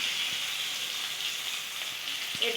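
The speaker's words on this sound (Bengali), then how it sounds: "আমি এই কাঁকড়াগুলিকে আগে ভেজে নিচ্ছি" Crabs fry in hot oil dusted with turmeric, giving a continuous, close, even sizzle with a few faint clicks underneath.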